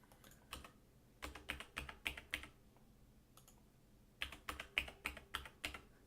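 Typing a password on a computer keyboard, heard as two quick bursts of crisp, close key clicks separated by a short quiet pause, with no one speaking.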